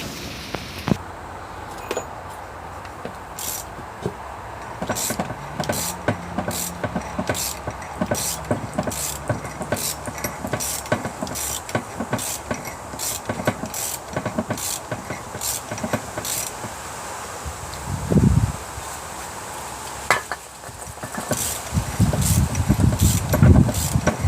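A hand tool cuts into a steel engine valve guide, making a long series of sharp, evenly spaced metallic clicks and scrapes close up, followed by a couple of heavier clunks near the end.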